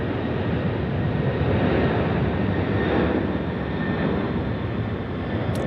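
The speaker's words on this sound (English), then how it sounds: "Service is departing to Bangkok this evening." A passenger plane departs Sydney Airport at night with a loud, steady, broadband jet roar. The roar stays constant throughout, heard without any talk.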